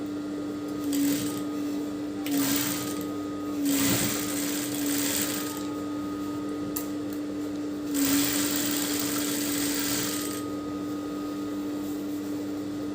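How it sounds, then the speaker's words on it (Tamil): A sewing machine stitches a semi Patiala pant in short bursts of whirring separated by pauses, with a steady hum and light mechanical clicks underneath. "கொஞ்சம் கொஞ்சமாக வந்து நம்ம ஸ்டிச் பண்ணிகிட்டே வந்துடலாம்."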